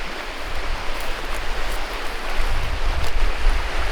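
A small creek rushes past at close range, a dense steady wash of flowing water that swells slightly louder toward the end.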